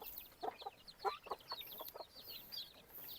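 Young chicks on a farm chirp and cluck in quick, bright bursts while feeding from their feeders, several overlapping calls close by with no talk.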